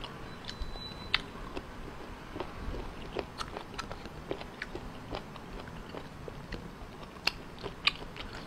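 Close, quiet crunching and biting of raw shellfish, with irregular sharp crisp cracks scattered over a soft chewing background.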